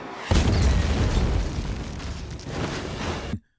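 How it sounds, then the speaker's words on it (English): A cartoon explosion from the animated show Carmen Sandiego: one loud, booming blast that rumbles on for about three seconds, then cuts off abruptly into silence. "This thing hits the bottom. Look at this explosion."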